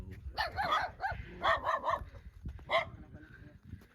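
A dog barks in short, repeated bursts, fairly close, mixed with some voices and background noise at a rural campsite in Siruma, Camarines Sur.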